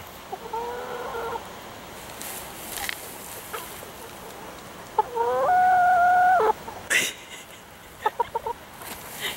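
Roosters and chickens on a farm: two drawn-out crows, one faint and one loud and near, with scattered clucks and short calls in between, no talk.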